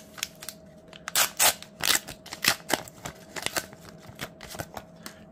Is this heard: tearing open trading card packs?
yes